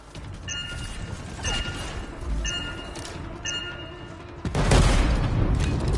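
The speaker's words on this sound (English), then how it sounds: "Shields down, but I think the explosion destabilized the foundry." Explosion detonation in the video game Anthem, a heavy booming blast that swells loud near the end over a dense rumbling, clanking game soundscape with repeated mechanical pulses.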